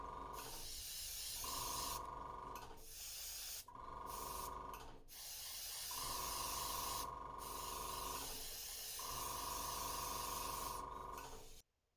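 Bursts of an airbrush spraying paint onto a wooden trout lure, several hissing passes of about one to two seconds each separated by brief pauses, close and steady, with no talking.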